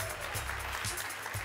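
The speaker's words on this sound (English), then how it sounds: "Give her a big round of applause" Audience at a Sunday family church service applauding, soft and fairly distant clapping spread evenly through the moment, with a few low thumps beneath.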